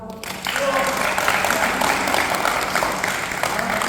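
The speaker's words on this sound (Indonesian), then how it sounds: "Tepuk tangan dong." Applause from an audience before a stage, bursting in after a brief quiet start and holding as a broad, fairly loud wash of clapping for a few seconds, with some voices mixed in.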